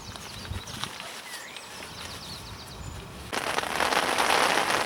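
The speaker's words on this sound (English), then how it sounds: "So the rain started again now." Rain falling at Furnace Lakes Fishery in West Sussex, light patter that suddenly turns into a steady heavier hiss of rain on surfaces partway through.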